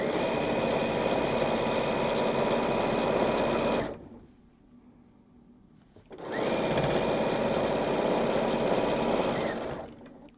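Sewing machine stitching down quilt binding, a loud, fast, steady whir up close that stops for about two seconds mid-way and then resumes for another long run.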